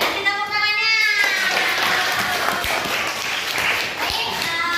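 A class of students in a school counseling session breaks into applause, a loud, continuous burst of clapping that rises right after a voice and carries on through the end, with children's voices faintly mixed in.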